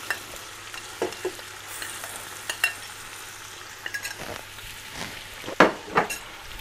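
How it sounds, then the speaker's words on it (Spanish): Boletus mushrooms sauté in a pan, a steady sizzle broken by scattered scrapes and stirring clatters that grow louder near the end. "Y seguimos sofriendo."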